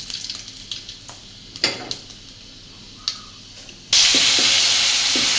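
Panch phoron spices hitting hot oil, quiet ticking and light clatter at first, then an abrupt loud burst of sizzling that holds steady to the end, with a few pops on top.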